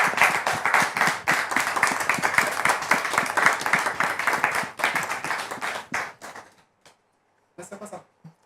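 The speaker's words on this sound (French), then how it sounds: "recevons maintenant avec votre permission le frère Rodrigue en question sous vos applaudissements" A studio audience applauds a guest arriving on a talk show, brisk close clapping for about six seconds that thins out and stops, followed by a few scattered claps.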